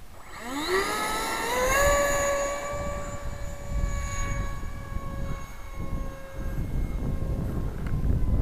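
An RC A-10 Warthog model jet running on a 6S lipo takes off, its whine rising sharply and then holding a steady high electric scream over a rough rushing roar.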